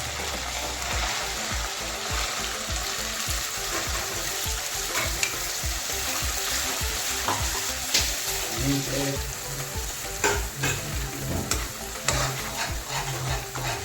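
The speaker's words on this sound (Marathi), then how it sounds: "हे सर्व व्यवस्थित फ्राय करून घेऊया" Ginger-garlic and masala frying in hot oil in a home kitchen pan, with a steady loud sizzle and repeated stirring scrapes close by throughout.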